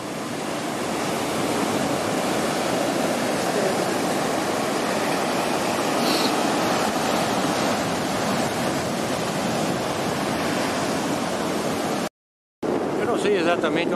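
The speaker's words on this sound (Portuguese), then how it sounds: "Mar bem agitado, né?" Rough, agitated sea surf pounds Quatro Ilhas beach in Santa Catarina, Brazil, a loud continuous roar of breaking waves with wind buffeting the microphone and a brief dropout near the end.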